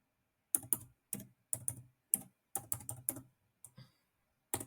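Bursts of computer keyboard typing, clusters of crisp key clicks with short pauses and a final Enter-like press, close and clear with no talking.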